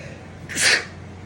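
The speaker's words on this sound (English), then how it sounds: "Hold on, I have to sneeze." A single sharp sneeze bursts out close by after a brief quiet breath.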